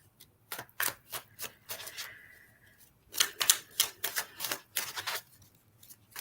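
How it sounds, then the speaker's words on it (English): Tarot cards being shuffled and pulled from a deck, a run of quick crisp card flicks and slaps in two bursts, close and fairly quiet, with no talking. "I'm gonna pull another card to go with this."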